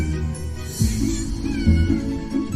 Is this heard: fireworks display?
no